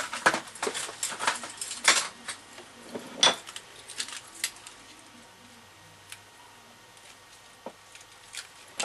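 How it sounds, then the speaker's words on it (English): Homemade metal fishing spoon lures made from teaspoons being handled, producing close, scattered metallic clinks and light jangles that bunch together early and then thin out into occasional small taps. "A spoon, thankfully it's got a piece of foam to protect me from hooks, made from a teaspoon"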